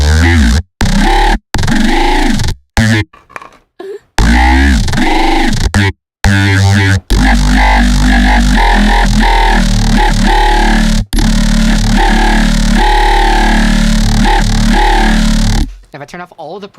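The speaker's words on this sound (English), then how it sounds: "So using only sine waves," Layered synthesizer tones built only from sine waves in Serum, with phase modulation, play loud and dense with sustained pitched notes and sharp rhythmic cutouts.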